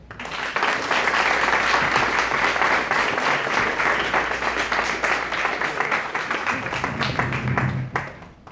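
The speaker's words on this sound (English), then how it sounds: "Please give them a round of applause." A crowd at a concert fundraiser in the Black Hills applauds warmly for several seconds, steady clapping from many hands that tapers off at the end.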